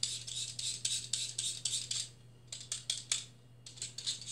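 A craft knife scrapes ochre pastel pencil onto paper in quick rhythmic strokes, close and fairly quiet, with a short pause in the middle before the scraping resumes.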